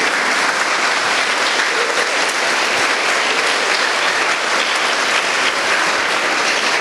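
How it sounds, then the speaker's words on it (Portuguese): Loud, continuous applause from a church congregation during worship, thick and even crowd clapping throughout with no voices standing out. "tem gente que vai aplaudir o Senhor."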